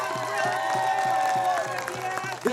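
Crowd applause and cheering at an outdoor No Kings protest rally in Burlington, a steady wash of clapping held for a couple of seconds, with voices mixed in.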